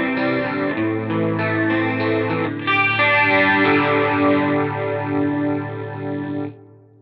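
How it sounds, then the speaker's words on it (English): Electric guitar played through a phaser pedal, sustained chords swirling with a sweeping, whooshy modulation, loud and steady, then cutting off near the end. "phase is the one that you want for those big, whooshy sounds."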